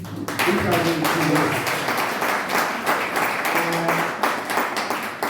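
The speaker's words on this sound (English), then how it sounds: "That clap offering is weak." An audience at a lecture event claps in a sustained burst of applause lasting several seconds, with voices talking over it.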